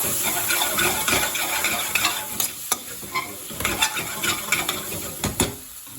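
Spices and base gravy for a BIR-style chicken masala are stirred in a hot pan, giving a loud sizzle with repeated scraping strokes and occasional metallic knocks from the utensil.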